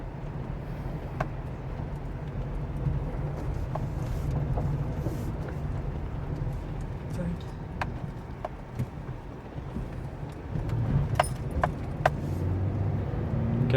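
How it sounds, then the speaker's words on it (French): A 1.4-litre Twinport petrol engine in an Opel Corsa with 37,000 km hums steadily from inside the cabin while driving, a low continuous drone with road noise and a few faint clicks, growing slightly louder near the end. "Un petit moteur assez nerveux, mais vraiment plutôt sympathique à conduire."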